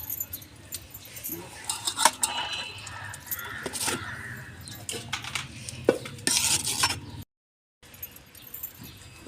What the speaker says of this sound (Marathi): बटाट्याचा खीस घालायचा जरा हलवायचं